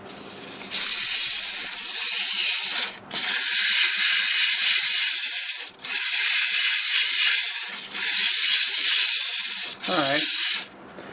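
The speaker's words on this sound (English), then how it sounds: "I'm actually going to sand this with the lathe going in reverse." A steady, loud abrasive hiss of sheets of sandpaper against black walnut spinning in reverse on a lathe, broken by brief pauses in several bursts, with a short vocal sound near the end.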